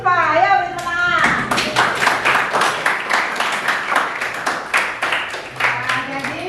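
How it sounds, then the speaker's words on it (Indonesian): A classroom of students claps to congratulate the top-ranked pupils, a dense stretch of hand clapping that follows a few spoken words at the start and fades toward the end. "Ayo beri tepuk tangan."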